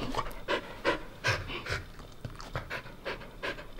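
A Samoyed dog pants in quick, rhythmic bursts close by, with breathy puffs recurring steadily and no talk over them.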